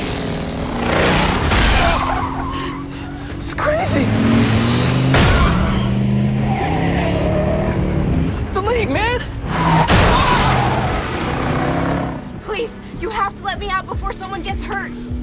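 A car accelerating and tearing away in a movie chase, engine roaring with tyre squeals and impacts, loud and close, with frantic voices over it.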